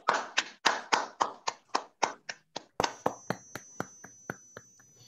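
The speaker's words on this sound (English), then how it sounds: "all four of you, first of all, deserve a big applause from us" Slow, rhythmic clapping from what sounds like a small number of people at a science slam finals event, about fifteen distinct claps that gradually soften, with a brief high ringing tone near the end.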